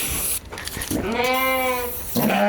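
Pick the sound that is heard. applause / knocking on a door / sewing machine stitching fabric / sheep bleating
sheep bleating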